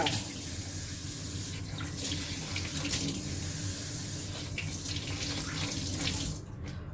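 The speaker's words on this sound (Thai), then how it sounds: "เอาไปลวกแล้วก็ต้องมาล้างอีกทีนะคะ ล้างให้สะอาดไปจ้า" Tap water runs steadily into a kitchen sink while blanched pork for a Chinese herbal soup is rinsed, a continuous close splashing rush that cuts off near the end.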